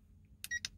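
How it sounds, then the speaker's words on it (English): A Starline i96v2 immobiliser fitted to a Land Rover Evoque sounds a short confirmation: two close, clear electronic bleeps, fairly loud against a low background hum. "If it's the same code as the first one, it'll give me a double bleep."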